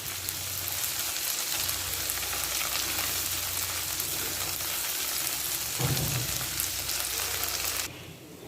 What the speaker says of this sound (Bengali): পেঁয়াজটা নরম করে ভেজে নিব